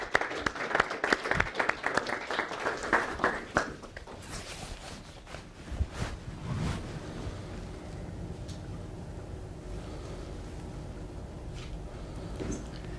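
Audience applause welcoming Professor Steve Lindsay of the London School of Hygiene and Tropical Medicine to a lecture: dense, steady clapping for about four seconds that then breaks off, leaving a quiet room with scattered small noises.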